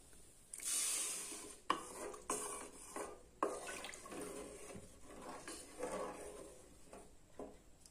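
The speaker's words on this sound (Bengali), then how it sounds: "এবার এর ভিতরে দিয়ে দেবো আমি জল" Water is poured into fried lentils, rice and spices in a pot, a soft rushing splash near the start followed by quiet clinks and stirring scrapes, with no talking.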